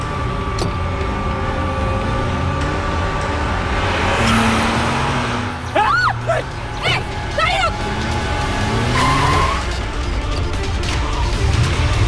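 A car speeds away with tires squealing in a dramatized crime scene, a loud engine roar with several sharp skid shrieks and voices around it.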